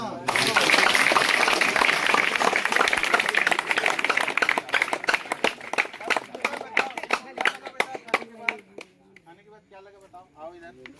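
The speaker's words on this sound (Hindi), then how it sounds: "तालियां" Audience applause after a street play demonstration about superstition: dense clapping from a crowd outdoors that starts strong, then thins into scattered separate claps and fades out over about ten seconds, with some voices mixed in.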